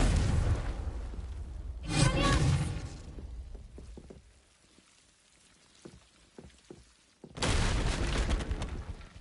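A Confringo blast spell in Hogwarts Legacy goes off as two loud bursts some five seconds apart. Between them come scattered faint crackles and taps at low volume.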